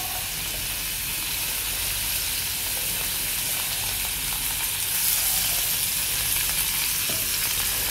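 Ridge gourd peels frying in lightly heated oil for a peerkangai skin chutney, a steady close sizzle with a faint stirring hiss that swells slightly partway through, with no talking.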